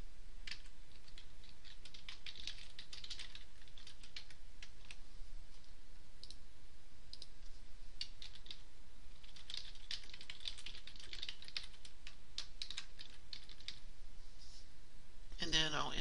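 Text is typed on a computer keyboard into a report heading in UltraQuest 5.5 software: faint, scattered key clicks under a steady background hiss, with a short burst at the end.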